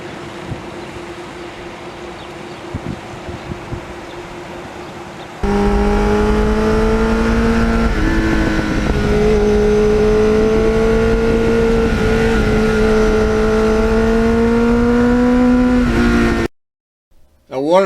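A 1983 Suzuki XN85 Turbo motorcycle idles faintly, then the engine note jumps loud and stays high as the bike rides and accelerates, pitch rising and dipping with throttle changes before cutting off abruptly.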